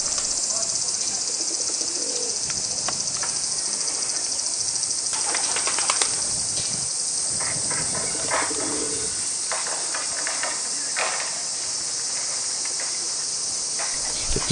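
Pigeons coo and flutter softly at the gate of a Japanese temple on a hot summer day, over a steady high whine of insects, with scattered faint wingbeats and distant sounds.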